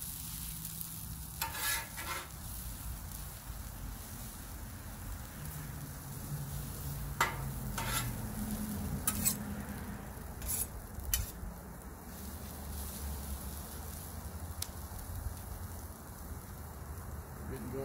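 Hash browns sizzling on a Blackstone griddle, a steady broadband hiss with scattered sharper crackles and a few scraping clicks throughout, with faint talk in the background.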